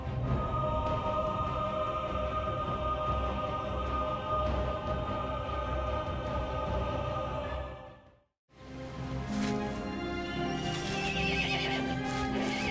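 A horse in the Elder Scrolls Online video game neighs and whinnies loudly with clip-clopping hooves, a dense steady bed of sound that drops out briefly before resuming.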